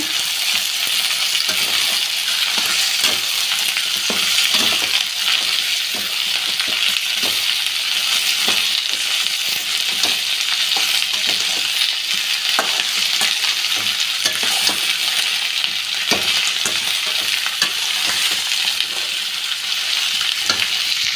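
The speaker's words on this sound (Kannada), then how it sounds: "ಇವಾಗ ಕಟ್ಬಿಟ್ಟಿರುವಂಥ ತೊಂಡೆಕಾಯಿನೆಲ್ಲ ಹಾಕ್ಕೊಳ್ಳೋಣ ಮಿಕ್ಸ್ ಮಾಡಿ" Chopped ivy gourd stir-fried with onion in hot oil: a continuous loud sizzle with frequent sharp scraping and clinking of a spatula against the pan, steady throughout with no voices.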